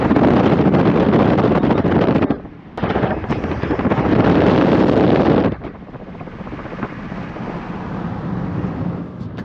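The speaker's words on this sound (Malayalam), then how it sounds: "ഭയങ്കര വിൻഡാണ്." Heavy gusts of wind buffet the microphone in loud roaring bursts, briefly dropping out, then easing to a quieter steady rush.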